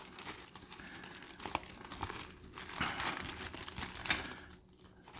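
Paper instructions being folded over and crumpled up close, a continuous soft crinkling and rustling with a few sharper crackles.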